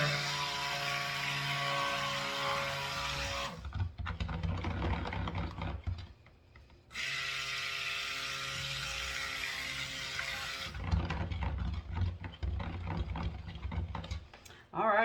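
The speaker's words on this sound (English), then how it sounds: "I am going to mix this on low for just a couple seconds" An electric mixer runs on low to combine a soap batter, whirring in two continuous stretches split by short pauses, with a faint rattle of the beaters over the top.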